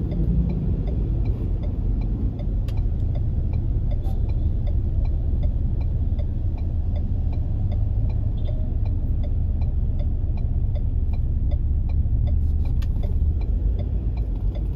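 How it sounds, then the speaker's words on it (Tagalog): Road traffic on EDSA in Manila, heard from inside a car, makes a steady, continuous engine rumble and drone. A faint regular ticking runs through it, like a turn signal, and no one talks. "Yan, traffic ng EDSA guys."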